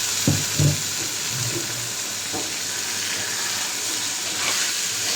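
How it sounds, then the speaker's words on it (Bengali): Drained, washed rice fries in a pan for pulao, a steady loud sizzle and hiss with a few soft stirring knocks near the start. "আপনি যত ঝরঝরে করতে চাইবেন পোলাও, অত একটু বেশি সময় ধরে চালটা ভেজে নিতে হবে।"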